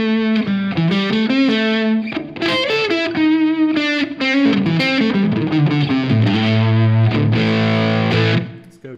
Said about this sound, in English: Let's hit a little bit of distortion on it.